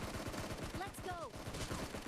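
Rapid gunfire in the mobile shooter Battlegrounds Mobile India (BGMI), a fast, continuous rattle of shots running the whole length, with a short voice-like call sounding partway through.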